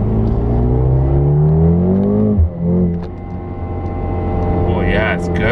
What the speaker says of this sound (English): let's put our foot down here and see what these shifts are like